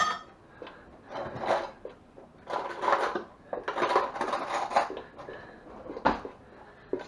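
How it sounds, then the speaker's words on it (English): A spoon mixes savoy cabbage with flour and onions in a pot, giving soft, uneven scrapes and rubbing knocks in irregular bursts, quiet and close. "Now mix it up good with your flour and onions."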